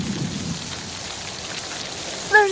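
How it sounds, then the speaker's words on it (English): A steady wash of heavy rain from a thunderstorm fills the whole stretch evenly and keeps on without a break, and a faint high tone cuts in briefly right at the end. "So what's a little thunder and lightning?"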